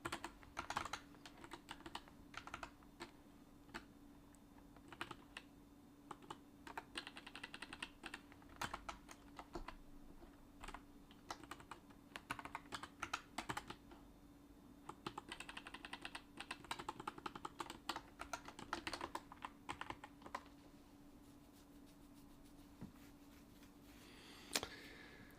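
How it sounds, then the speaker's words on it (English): Quiet, steady typing on a computer keyboard, keys clicking in irregular bursts and pauses for about 25 seconds with no talking. "I'm just typing it all."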